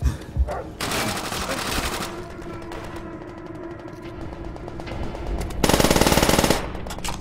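Rapid automatic gunfire in a Call of Duty match, loud bursts of machine-gun fire with a heavier sustained volley near the end, set against constant game background noise.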